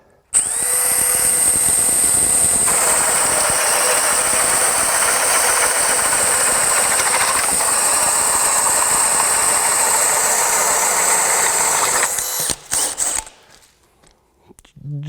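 A DeWalt 20V DCD1007 hammer drill bores through knotty wood with a loud, continuous high whine that holds steady for about twelve seconds, then cuts off abruptly with a brief sputter and near silence.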